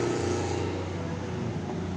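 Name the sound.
Transjatim Koridor 1 bus at Purabaya terminal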